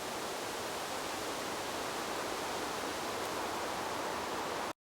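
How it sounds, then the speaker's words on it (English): A horrible hissing sound effect in a Halloween children's story read-aloud: a steady, broad, loud hiss held for several seconds with no voice over it, then cutting off abruptly. "Suddenly, a horrible hissing sound filled the air."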